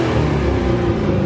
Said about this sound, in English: I'm going to step on the gas a little bit just so you can hear how that engine sounds.